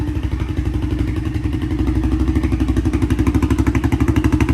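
The engine of an Arctic Cat DVX400 ATV (LTZ400) idling nearby, a loud steady single-cylinder thump with rhythmic mechanical clatter that picks up slightly partway through, with no talking.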